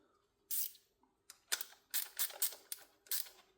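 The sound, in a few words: spanner turning a nut on a Ducati motorcycle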